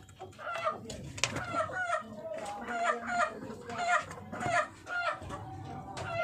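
Bantam rooster and hens cluck and call in a farmyard, several birds overlapping in busy, fairly close bursts, with a low voice talking faintly underneath.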